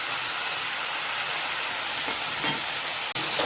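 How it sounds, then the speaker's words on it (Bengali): Spice paste of cumin, coriander and ground radhuni sizzles in a pan while shukto is cooked, giving a steady, close hiss with faint stirring scrapes and no talk. "মশলাটা কষা হয়ে গেছে"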